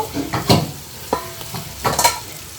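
Vegetables with turmeric stir and sizzle in a pan while cooking Bengali pabda fish hariyali, with several short scraping stirs and bursts of frying close up and no talk.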